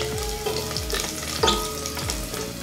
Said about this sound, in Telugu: జీలకర్ర వేగిన తర్వాత చిన్నగా చాప్ చేసుకున్న 4-5 వెల్లుల్లిపాయలు వేసుకోవాలి.